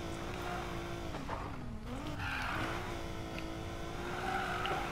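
A car in the Need for Speed racing game drifts around a corner, its tires squealing in a long, wavering screech over steady engine drone, loud and close throughout.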